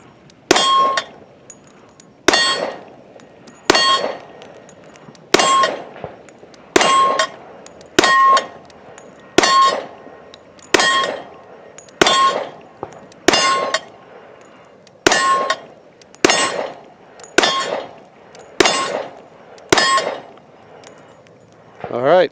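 Sixteen rounds fired in steady succession from a Rock Island Armory double-stack 10mm 1911 pistol at steel targets 15 yards away, each shot followed by a bright ringing clang, evenly spaced about every second and a half.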